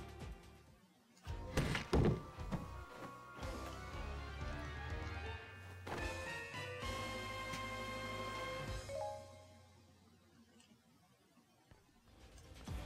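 A treasure chest opening in the video game Hyrule Warriors: a heavy thunk and rattle followed by a rich swelling musical flourish with sustained tones that fade out, fairly loud and mixed with game sounds.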